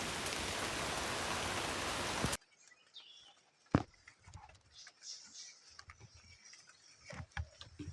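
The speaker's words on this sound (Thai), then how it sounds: "ฝนตกเลย" Heavy rain pours down in a forest during a bird-hunting trip, a loud steady hiss for about two seconds that then cuts to quieter woodland ambience with scattered drips and taps.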